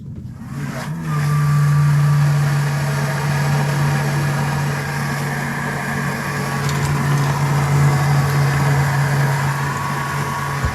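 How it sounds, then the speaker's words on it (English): A boat's freshwater boost pump runs steadily, a loud close motorized hum with a constant pitched whine that starts after a second and holds throughout with slight fluctuations. "So now let's listen to that, that boost pump now."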